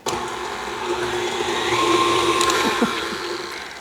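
An electric mixer beats peanut butter cookie dough in a bowl, giving a steady, close whirring motor drone that holds evenly for a few seconds with no voices.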